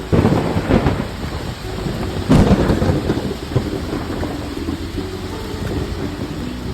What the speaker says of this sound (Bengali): দেন আমরা চা অর্ডার করি, আর হঠাৎ বৃষ্টি শুরু হয়ে যায়।